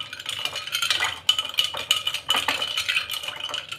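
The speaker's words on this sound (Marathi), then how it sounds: "व्यवस्थित आपल्याला हे हलवून घ्यायचं आहे." A spoon stirs mango sharbat in a vessel, making repeated metallic clinks and scrapes against the sides in an irregular rhythm, close and clear with no talking.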